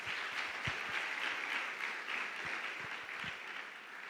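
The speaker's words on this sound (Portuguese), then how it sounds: "Vamos aplaudir os homens" A congregation at a Pentecostal Quadrangular church service applauds steadily, a dense patter of clapping that holds at an even level, fairly soft and distant.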